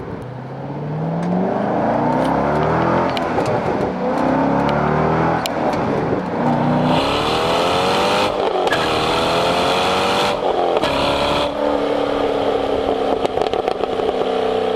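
Close exhaust of a C6 Chevrolet Corvette with a Corsa Sport quad-tip exhaust rumbling and burbling, then revving up in several rising bursts before dropping back to a deep idle.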